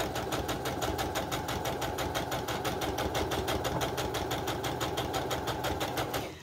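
A sewing machine stitches scrappy bow tie quilt pieces corner to corner, a rapid, steady mechanical chatter of needle strokes running close and even before slowing at the end.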